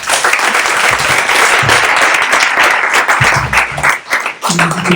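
A conference crowd applauds a round-table panel on conversational marketing, with loud, sustained clapping and brief murmurs of voices mixed in.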